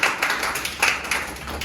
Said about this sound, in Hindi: बताओ, ताली बजाओ।